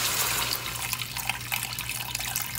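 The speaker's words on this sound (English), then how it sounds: "just enough water to cover your oxtail" Water pours steadily into a pot of oxtail being braised, a continuous broadband splashing and running-liquid wash that stays even and fairly loud throughout, with no talking.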